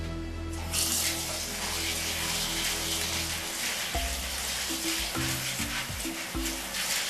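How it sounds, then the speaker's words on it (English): Lentils rinsed under running water, a steady broadband splashing and trickling that continues the whole time, with a low hum beneath it and brief shifts in the flow near the end. "Just rinsing them off. Make sure they get soaked and rinsed."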